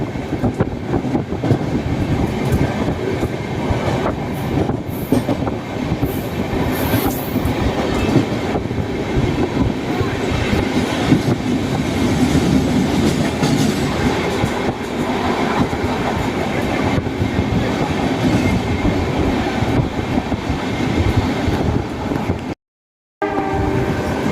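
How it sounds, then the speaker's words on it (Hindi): Ganga Sagar Express 12562 rolling on the rails, heard as a loud, continuous rumble and rattle of wheels and coaches that keeps going almost the entire time, with a very short gap near the end. "गंगा सागर एक्सप्रेस जयनगर सियालदा"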